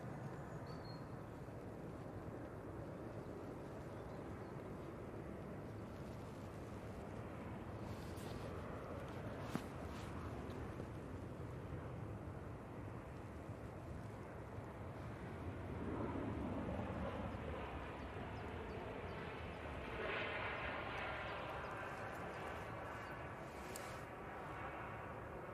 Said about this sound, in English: Ryanair coming in.